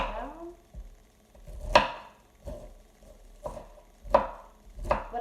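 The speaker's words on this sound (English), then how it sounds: "we're just gonna continue chopping that down" A knife chops ingredients for a five-ingredient corn pasta, landing as five or six separate sharp strikes on a board at an uneven pace, close and clear with no talking.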